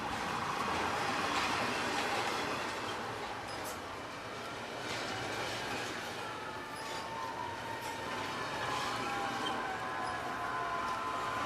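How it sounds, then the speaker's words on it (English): A fire truck siren wails faintly in the distance, its rising and falling tone carried over a steady roar of rumbling traffic and the rail noise of a CSX freight train. "Here comes the fire truck. You can hear him in the background."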